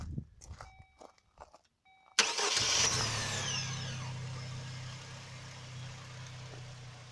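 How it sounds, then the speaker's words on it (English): A 2001 Chevrolet Cavalier engine cranks over with a sharp burst after some light shuffling and clicks, then quickly settles into a smooth, steady idle hum close by. "I will start the car"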